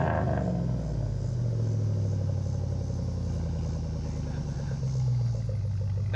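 A truck engine with a small knock revs after a cold start, a loud close rumble that swells and falls through repeated throttle blips, alone with no talk.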